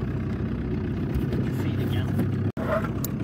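A diesel engine runs with a steady low rumble on a boat out on a lake, constant and close, with a brief cutout near the end and voices faintly present in the background.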